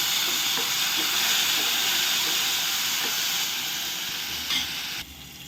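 Tomatoes fry in a pan for rasam, a steady broad sizzle and hiss with faint stirring clicks, close and continuous before dropping away near the end.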